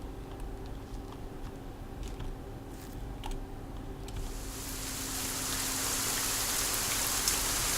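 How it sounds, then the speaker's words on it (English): Heavy rain sweeps in partway through in the video game Saurian, a dense hiss that swells over a quieter ambient bed with faint ticks and stays loud to the end. "Loud rain! Loud rain!"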